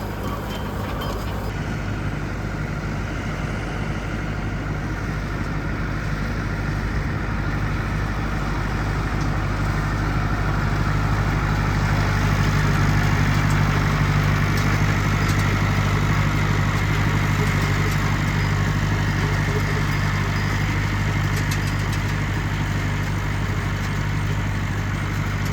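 A tractor engine drones steadily and loudly for a long stretch while tedding hay during the second hay cut, with no one talking.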